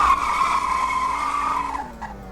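Car gear shift in the Roblox game Greenville, a steady engine whine that drops in pitch as the gear changes near the end, loud and alone.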